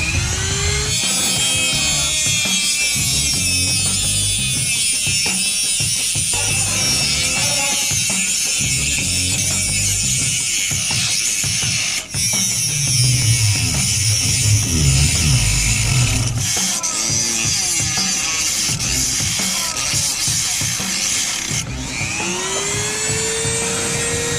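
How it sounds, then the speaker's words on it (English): A Dremel rotary tool grinds and cuts out rotted wood in a continuous, close, high-pitched buzzing whine with rough chattering and brief pauses, running for over twenty seconds without talk. "I want it to be more precise, so I got the Dremel."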